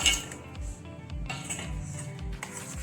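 Raisins, almonds and cashews are tipped into a pan of carrot halwa with a run of light metallic clinks and taps of a spoon against the pan, fairly close and quiet.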